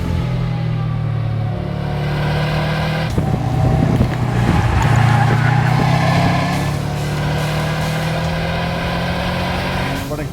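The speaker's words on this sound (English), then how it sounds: "Listen to that 305 horse flat four sing. It just sounds so gutty, and it pulls so hard." A Subaru WRX STI with a 305 hp flat-four engine and close-ratio six-speed drives on a jungle road in Cambodia, its loud, gutty engine note steady and close, with faint tire noise and no talk.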